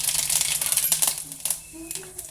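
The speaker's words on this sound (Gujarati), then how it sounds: "જીરું આપણું સારી રીતે ફૂટી ગયું છે." Cumin seeds crackle and pop in hot oil with a dense, bright patter of tiny sputters that fades out partway through, before faint voice-like sounds take over.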